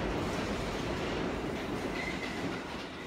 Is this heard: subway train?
yes